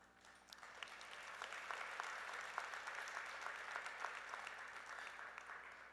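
Audience applause fills a university honors convocation hall, a dense, sustained patter of many hands clapping at moderate distance for several seconds, fairly quiet overall, with no speech over it.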